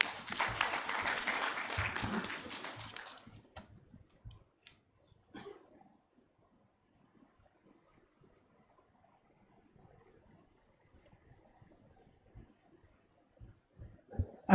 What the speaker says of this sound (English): A bigger round of applause to our chairperson of the National Population Council